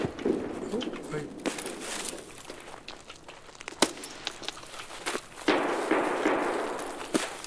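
Sniper rifle shots in a first-person shooter, a handful of sharp, isolated cracks spread across the stretch amid game ambience, with players talking over them.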